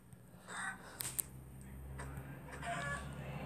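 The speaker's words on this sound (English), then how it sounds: "Oh my god, there's a chicken in here." A few quiet Minecraft chicken clucks and squawks sound in short bursts over a faint background, including a sharp high squeak near the start.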